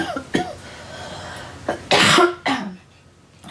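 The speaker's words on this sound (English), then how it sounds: "I can't quit coughing." Several coughs break out close by, a short one first and then a couple of harsher bursts, with quiet pauses between them.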